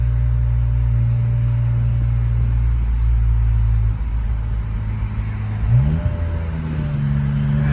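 A BMW E46 M3 with an SMG gearbox idles in a deep, steady low rumble from inside the cabin, then shifts down partway through with a brief blip and a change in engine note.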